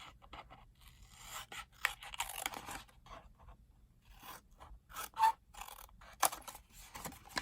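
Scissors snip through craft pieces for a woven triangle box, a few soft, scattered cuts and scrapes close by in a quiet room.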